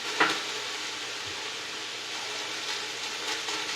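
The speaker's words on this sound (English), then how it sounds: "Dagny is still browning meat." Meat browning in a pan gives a steady, moderate sizzle with a soft crackle near the start, heard alone without talking.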